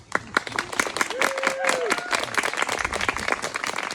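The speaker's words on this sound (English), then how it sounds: "I think we should get a round of applause." A crowd at a wedding ceremony at Altskeith House on Loch Ard, Scotland, applauds with steady, dense clapping throughout, close and fairly loud, with a brief whistle-like tone rising over it.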